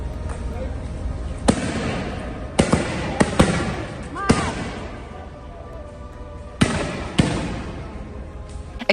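Several sharp, loud bangs from firecrackers set off by protesters burst out at irregular intervals over a noisy crowd at a street protest, some in quick pairs, outdoors.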